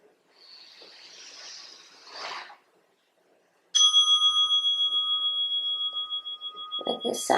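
A bell rung in a yoga class gives one clear ringing strike that sustains and slowly fades over several seconds after a soft passage of breathy sound, close and fairly loud.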